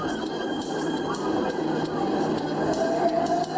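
Whoosh high-speed train running in Indonesia, a steady, fairly loud broadband rumble and rush of rolling stock that holds evenly for a few seconds without a break.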